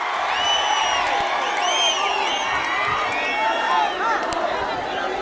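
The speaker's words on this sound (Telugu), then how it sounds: "అండగా ఉంటామని గట్టిగా చప్పట్లు కొట్టి హర్షాన్ని ఆమోదాన్ని తెలియజేయాలి" A large crowd at an open-air political rally in Penukonda, Anantapur district, cheers and whoops loudly, with shouts rising over a continuous roar and some clapping mixed in.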